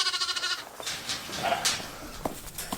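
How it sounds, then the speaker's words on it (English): Sheep and lambs bleat on a farm. A strong, wavering bleat opens the clip, then shorter calls and rustling follow nearby. "So the sheep are doing good, the lambs are doing good"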